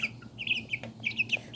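Tiny Serama bantam chickens and pheasant-chicken chicks clucking and peeping close up, a quick run of short high chirps repeating in bursts over a low murmur.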